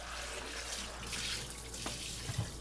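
Kitchen tap running steadily as a mixing bowl is rinsed out, a soft continuous hiss of water with a few faint clinks and splashes, no voices.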